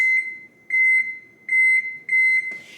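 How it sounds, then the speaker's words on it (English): An electronic kitchen timer beeps in a home kitchen, giving four bursts of rapid high-pitched beeps in a regular pattern, loud and close, then a short rustle at the end. "I'll put the first timer on for 25 minutes."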